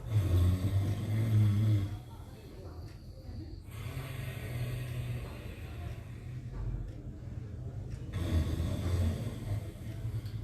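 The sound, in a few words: throat friction breathing exercise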